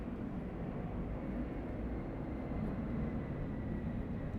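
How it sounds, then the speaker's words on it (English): Airplane flying over near San Francisco Airport, heard from inside a warehouse as a low, steady, distant rumble with no speech over it. "A lot of people ask about that airplane noise."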